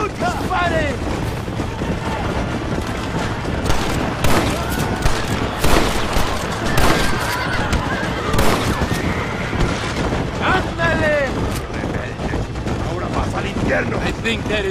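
A Red Dead Redemption shootout rattles with dense, rapid gunfire, sharp bursts overlapping throughout, while horses whinny and voices shout over the chaos.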